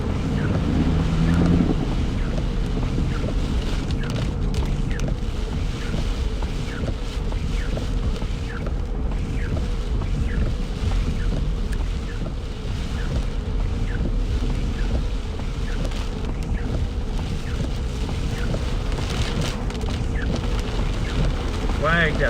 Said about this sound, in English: That's how much rain there is.